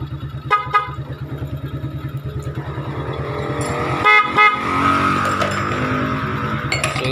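An aftermarket 12-song motorcycle horn sounds during a pre-ride check, blaring bursts of melodic electronic tones over the fast pulsing putter of a nearby idling motorcycle engine.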